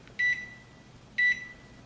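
An oven control panel gives two short, identical electronic beeps about a second apart while being set to preheat to 350 degrees, each tone clean and moderately loud against a quiet room.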